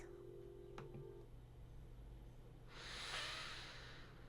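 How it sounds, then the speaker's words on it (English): A person seated for gentle yoga takes a slow deep breath, a soft airy exhale swelling near the end over a quiet low hum, close and calm. "find yourself nice and comfortable, taking some deep breaths"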